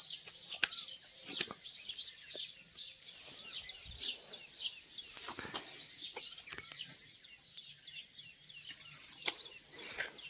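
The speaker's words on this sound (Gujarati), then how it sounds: "ચકલીઓના અવાજ વાહ" Many sparrows chirping in quick, high twittering bursts, moderately close, with a few soft thumps and knocks in a quiet setting where buffalo are tied.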